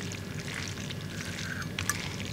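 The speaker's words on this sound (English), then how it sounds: "and then I'll add the water in as well" Starchy pasta water is poured into a pan of small shell pasta with tuna sauce, a soft, brief gurgling pour that sizzles faintly, heard alone at a quiet level with no talking.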